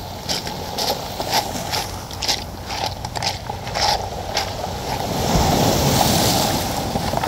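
Waves washing over Jungni beach, a hiss of surf with a series of brief rattling bursts as stones tumble, then a louder, broader surge of water toward the end, with some wind buffeting the microphone.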